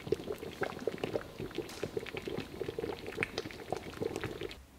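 Dhal pitta simmering in a pot on the stove, a steady bubbling and popping that runs close and continuous throughout with no talk.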